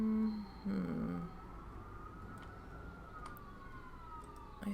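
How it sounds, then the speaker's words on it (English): An ambulance siren passes outside, distant and faint, its rising and falling wail drifting under low background hum, with a brief louder tone at the start. "You're gonna hear some sirens here. Apologies. Ambulance or something going by."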